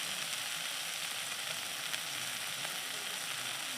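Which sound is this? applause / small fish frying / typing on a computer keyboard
small fish frying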